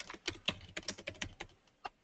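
Quick, uneven bursts of keystrokes on a computer keyboard, about a dozen crisp clicks over two seconds, close and fairly quiet with no talking.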